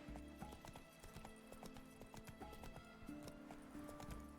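The horse Roach gallops in The Witcher 3, a rapid run of hoof clip-clops in steady rhythm over game ambience, fairly close and quiet overall.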